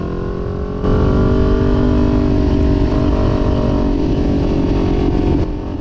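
Kawasaki Ninja 400 motorcycle fitted with a Leo Vince exhaust, its engine droning steadily and loudly throughout, with a slight rise in intensity just after the start; no voices.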